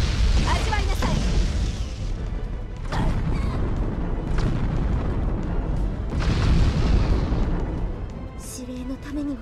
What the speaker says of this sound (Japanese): 砲撃開始